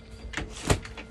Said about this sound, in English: These doors can be flipped open and shut within a matter of seconds.